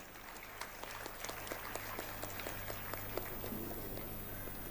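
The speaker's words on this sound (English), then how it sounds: "give them another round of applause" An audience at an inter-religious gathering in a basilica claps, a faint, distant and steady patter of many hands that carries on evenly for several seconds.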